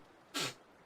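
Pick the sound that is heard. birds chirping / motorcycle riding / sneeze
sneeze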